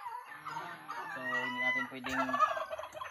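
Large-breed turkeys gobbling in a pen, several layered calls with clucks rising over one another at close range, with a few brief spoken words underneath.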